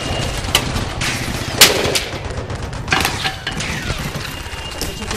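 Rapid video game gunfire rattles on and off, loud sharp shots and automatic bursts with mechanical clicks, no talking.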